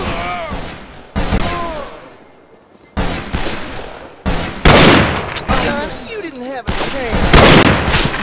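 Repeated gunfire in a Wild West sniper video game, loud bursts of shots and booms in rapid clusters with brief quiet gaps between volleys.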